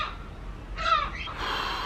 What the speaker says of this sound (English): The seagulls are coming in, can you hear them?